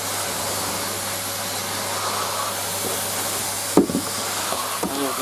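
A Numatic Basil NB200 vacuum cleaner runs on bedroom carpet with a steady, loud whooshing roar, broken near the end by a couple of short knocks as the head is moved.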